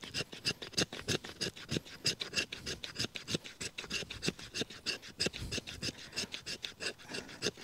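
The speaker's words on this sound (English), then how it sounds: "Yep, it's scraping the fat wood well enough." A knife blade rasps along a piece of fat wood to shave tinder, a steady series of close, scratchy strokes repeating in a quick, even rhythm with no talking.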